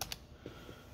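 Computer keyboard keys being typed to enter a measurement while designing a 3D-printed toy car: a few quick, close clicks at the start and a couple of softer taps later, with no talk.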